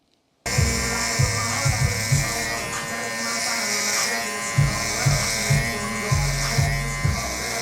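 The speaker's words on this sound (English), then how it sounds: "Let's move over to the clipper." A BaByliss hair clipper buzzes steadily close to the microphone after a short silence, its motor hum pulsing with repeated brief surges as it is handled, with someone speaking over it.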